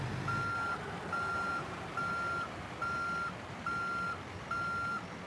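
A truck reversing in American Truck Simulator on a Salem to Pendleton run sounds six evenly spaced, steady electronic back-up beeps over a low engine hum, with no voices.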